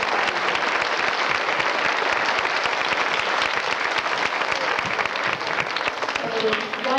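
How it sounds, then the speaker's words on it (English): A school audience of parents and families applauds the mayor at a 4th and 5th grade event, with sustained, even applause from many hands filling the room for the whole stretch, easing slightly near the end. "let us greet you and give you a round of applause"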